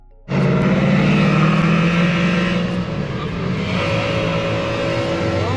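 Turbocharged Nissan 350Z starts loud and close, its engine note climbing hard under boost and holding a steady, strained roar for several seconds before rising again near the end.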